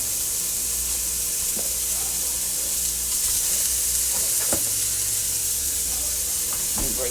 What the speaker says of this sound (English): So I'm going to put some premium breakfast sausage in here.